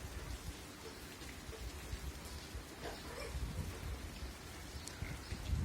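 Rain falling on a rainy morning in Jalaram Nagar, Jam Raval, Gujarat: a soft, continuous patter of drops on surfaces, fairly distant and quiet, with scattered louder splashes and no voices.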